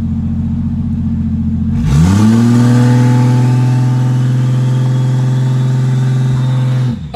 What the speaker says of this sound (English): Just doing some little 60-foot pulls back here in the parking lot.